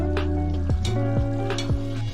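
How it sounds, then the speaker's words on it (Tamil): A utensil scrapes and stirs thick curd and soy-chunk gravy with garam masala in a pan in a steady rhythm, with a faint sizzle underneath. "இப்போ நல்லா கிண்டி விட்ருங்க"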